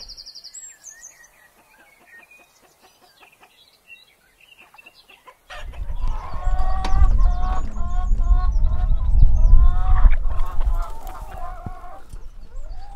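Chickens at mobile henhouses on a farm estate break into loud, busy clucking and calls after a quiet start with faint bird sounds, the flock close and continuous to the end.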